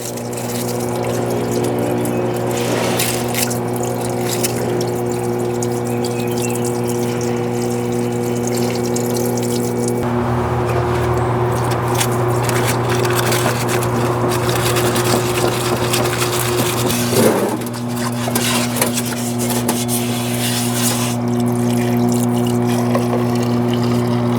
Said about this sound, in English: So we're going to wash the hub and drum, inner and outer bearing, the washer, and the nut.